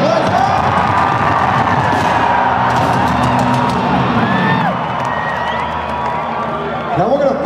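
A huge arena crowd at a metal concert in Glasgow cheers and screams continuously, loud and dense, with scattered whoops rising out of the roar.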